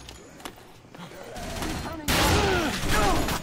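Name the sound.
machine gun fire from enemies in the video game Dead Rising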